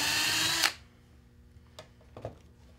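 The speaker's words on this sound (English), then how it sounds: "you can go ahead and pre-drill your second hole" A power drill whirs loudly and steadily for a moment while pre-drilling a lag bolt hole for a bat house pole mount, then cuts off, followed by a few faint clicks and taps.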